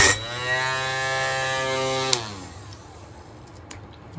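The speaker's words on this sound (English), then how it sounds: "Might be easy to grind that down actually." A small electric power tool grinding down a point on a model railway layout, a steady high whine with a harmonic buzz that winds down after about two seconds, followed by quiet room noise and a few faint clicks.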